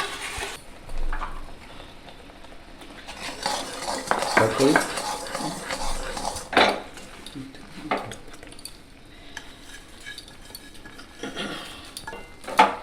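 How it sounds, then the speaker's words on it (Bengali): Sugarcane jaggery cooking down in a pan for sesame naru, a metal spoon scraping and clinking against the pan with faint sizzling, irregular stirring strokes close by. "পুরো গুড়টাকে আমি ভালো করে পাক তৈরি করে নেব।"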